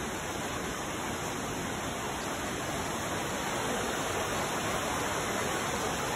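River water rushing down a ravine where a truck has fallen, a dense, constant roar of churning water, loud and unbroken from start to finish.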